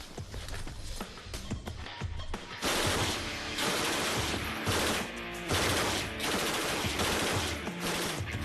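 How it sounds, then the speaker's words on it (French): A MAC 48 machine gun fires long sustained bursts, loud and continuous rattling gunfire that grows denser after the first few seconds, with no voices. "Pour nos soldats, la Mac 48 est ni plus ni moins la mitrailleuse idéale."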